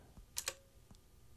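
A few light clicks of keys on a computer keyboard as a command is typed, quiet and close, with two quick strokes in the middle and a softer tap after.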